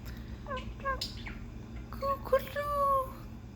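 A young child imitates a pigeon's coo, giving a few short warbling voiced hoots with an adult speaking nearby, close and soft in a quiet room.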